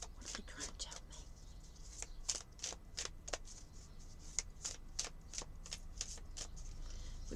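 Native American tarot cards riffled and shuffled by hand, a steady run of crisp, close flicks and snaps at a soft level with no talking.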